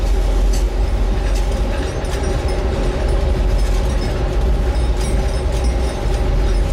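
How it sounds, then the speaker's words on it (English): The Palace on Wheels train in India rumbles steadily along the rails, a loud continuous low roar with faint rhythmic clatter and occasional metallic squeaks, no voices. "So that's the train"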